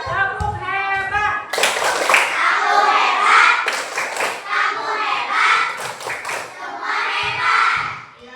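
Children clap out the 'tepuk hebat' chant together, rhythmic hand claps interspersed with chanted voices, loud and near, following a brief spoken cue.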